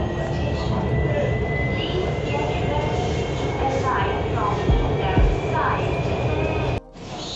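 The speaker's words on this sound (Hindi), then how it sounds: "ट्रेन चल गई है हमारी" Lahore Orange Line metro train running along the track at steady speed, a loud continuous interior rumble with a faint high whine and a couple of brief clunks near the end.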